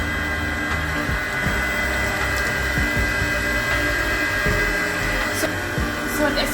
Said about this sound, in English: And as soon as it is mixed a little bit, then you can like increase the power.